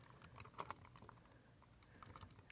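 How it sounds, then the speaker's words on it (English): Typing on a computer keyboard while writing HTML code, with quiet scattered keystrokes in uneven bursts and a couple of sharper clicks, faint and close with no talk. "I'm going to go ahead and start typing in my text."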